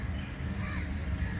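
A bird, probably a crow, calling outdoors: a faint, raspy caw over steady low background noise, with no one speaking.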